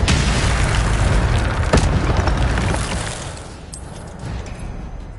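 A loud, roaring blast of the Incendio fire spell in Hogwarts Legacy, a sustained booming burst that slowly fades into a rumbling tail.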